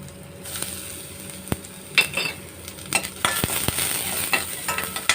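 Garlic sizzles in a pan for rasam, a soft steady fry broken by sharp clinks and scrapes of a utensil stirring against the metal.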